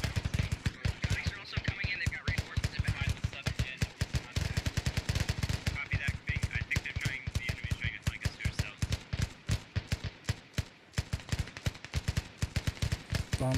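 Relentless rapid gunfire from many weapons in the video game Operation: Power Surge, dense machine-gun bursts and single shots overlapping loudly and almost without pause for the whole stretch.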